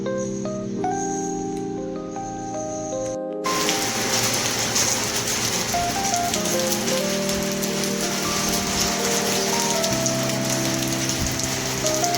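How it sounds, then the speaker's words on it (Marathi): Heavy rain suddenly starting to pour, a dense, loud hiss of drops that jumps in abruptly after a brief quieter stretch and then holds steady and strong to the end, with no speech. "आता लगेच इतका जोरात पाऊस सुरू झाला आहे"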